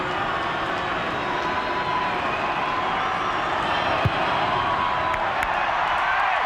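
A crowd at a Wallabies v England rugby Test match in 2010 cheers as a broad, steady, fairly distant roar that holds for several seconds without dying away.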